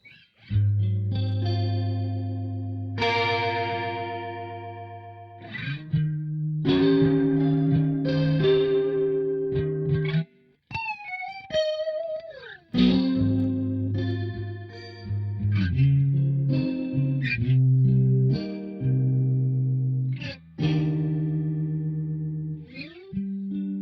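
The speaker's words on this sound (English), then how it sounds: "Leslie Overdrive sound." Guitar run through the ADA MP1 preamp's Leslie overdrive setting, a swirling, distorted chorus-like tone playing sustained notes and chords, loud and continuous with a brief break midway and no talking.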